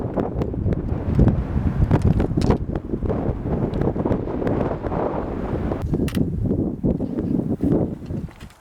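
Strong wind on a rocky mountain trail near Lake Helen in the Saddlebag Lake high country, a steady loud roar buffeting the microphone throughout, broken by rustles and scuffs.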